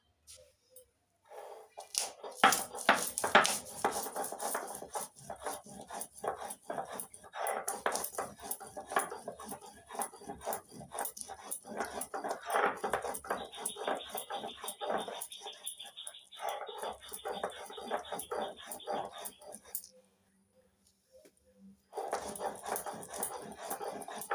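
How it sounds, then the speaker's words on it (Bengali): Green chillies ground on a shil-nora grinding stone make rapid, rhythmic scraping strokes of stone on stone. The strokes repeat steadily for a long stretch, pausing briefly near the end. "এবার ঝালের জন্য কয়েকটা লঙ্কা শিলনোড়া বেটে নিচ্ছি"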